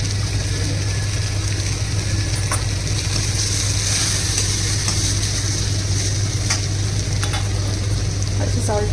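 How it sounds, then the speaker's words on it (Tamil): Chili powder sautéed in oil sizzles loudly and steadily, joined by a constant low hum and a few faint stirring clicks. "இந்த மாதிரி மிளகாத்தூளை எண்ணெயிலே போட்டு வதக்கும் போது நல்லா கலர் வரும்"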